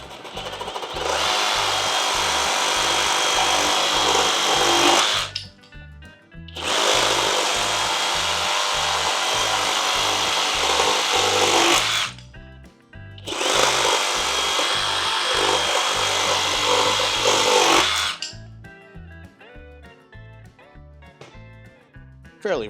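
A reciprocating saw with orbital action rips through nailed wood in three long, loud bursts of harsh buzzing, separated by brief pauses with rattling and knocking.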